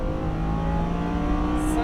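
Lamborghini Huracan under full throttle on a track, a loud, steady engine drone heard from inside the car, holding a constant pitch over the short stretch.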